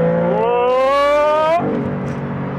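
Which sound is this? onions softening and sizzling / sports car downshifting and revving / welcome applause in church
sports car downshifting and revving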